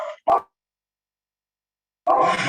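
A dog barks twice in quick succession at close range, then after a pause of silence another loud bark rings out.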